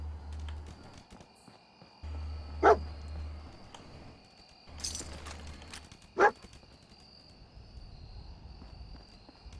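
A dog barks in the Fallout 4 Far Harbor video game: two sharp, loud barks a few seconds apart, set over a low game ambience with a steady hum.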